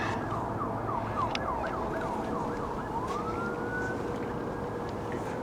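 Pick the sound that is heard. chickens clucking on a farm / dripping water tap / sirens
sirens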